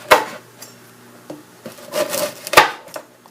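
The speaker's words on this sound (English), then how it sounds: "As you see, just take your knife, cut it just like so." Knife cutting through a bread loaf for crostini, a few short rasping strokes close up, with a sharper crunchy cut near the end.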